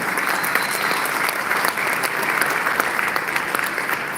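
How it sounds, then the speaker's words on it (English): An audience at a Veterans Day event applauds an Army veteran guest, a loud, sustained crackle of many hands clapping close by, steady from start to finish. "give a round of applause, please"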